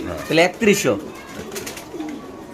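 Pigeons coo at a pigeon farm while someone speaks loudly nearby; the soft, rolling calls sit low beneath his voice and carry on after he stops.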